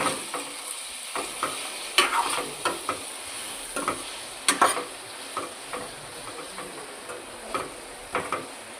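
Broad beans with salt and turmeric fry in a covered pan: a constant soft sizzle punctuated by a string of crisp clicks and taps from a spatula, close and fairly loud.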